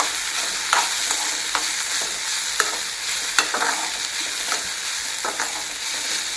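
Chopped vegetables sizzle steadily in a hot pan while a spoon stirs through them, scraping and clinking at irregular intervals over the continuous frying hiss, close and moderately loud.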